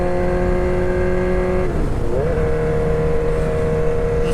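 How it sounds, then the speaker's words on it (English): Riding a 2006 Suzuki GSX-R 1000 on a Florida road, a loud steady engine hum and wind roar fill the ride, while the pitch shifts as a passing car sweeps by midway. "It's never good getting passed by cars on the Moto vlog."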